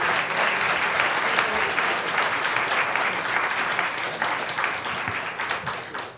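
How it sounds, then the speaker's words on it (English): A conference audience gives a cannabis retail and distribution panel a full round of applause, dense and steady for several seconds before thinning into scattered claps. "So could we give our panelists a round of applause?"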